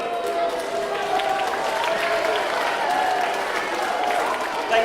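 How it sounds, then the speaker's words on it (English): Steady audience applause at a magic show, a full room clapping continuously with some cheering mixed in, holding at an even level throughout. "give me a round of applause, everybody"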